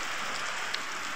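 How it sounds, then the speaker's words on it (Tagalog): Steady rain falls on a farm area during the rainy season, a dense, even hiss of drops pattering on surfaces throughout, with no voices. "Ayan, at naumulan na nga ni."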